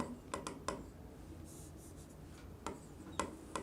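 A black marker writes on a board during a math class, giving faint squeaky strokes and short taps in irregular bursts with quiet pauses between them.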